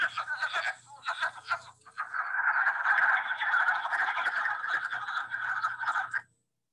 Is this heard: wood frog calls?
yes